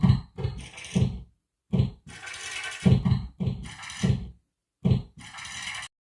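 A makeshift drum kit built from a book slamming shut and pages rustling and flipping, arranged as a choppy rhythmic beat of dull thumps and crisp papery swishes, close and clear with no voices.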